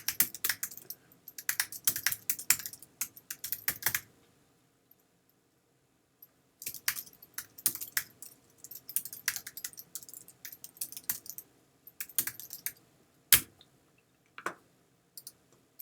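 Fingers tap on a computer keyboard in quick, close bursts of clicks, with a long quiet pause in the middle and a few isolated keystrokes toward the end.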